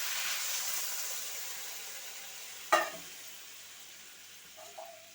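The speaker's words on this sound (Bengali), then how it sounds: "এইবার দেখুন আমি জল দিয়ে দিচ্ছি।" Water poured into a hot frying pan of young radish, potato, carrot and chili sizzles in a loud hiss that slowly fades, with a sharp clink of a utensil midway and soft knocks at the end.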